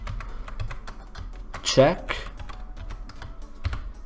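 Someone types on a computer keyboard while coding in GameMaker, with steady close key clicks tapping throughout and a louder burst of clatter in the middle. Someone speaks over the typing.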